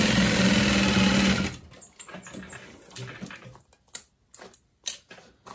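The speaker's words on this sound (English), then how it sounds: "you're just going to sew across the bottom in between those stitches" A sewing machine stitches across the bottom of a satchel bag in a short, loud, close burst, followed by a few scattered handling taps and bumps.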